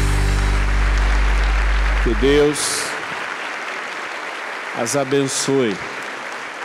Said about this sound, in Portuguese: Uma salva de palmas a todas as nossas mães.